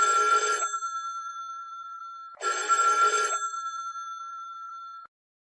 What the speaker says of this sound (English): Excuse me, I have to answer that.